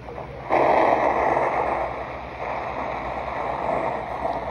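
A sound machine plays a thunderstorm track: a dense, steady rush of storm noise that swells abruptly and then holds at an even level, with no voices.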